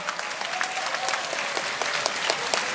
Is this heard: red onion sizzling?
no